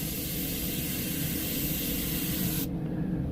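An airbrush sprays paint onto a Minion figure, a steady close broadband hiss that runs continuously and then abruptly thins as the trigger eases near the end, with no voices.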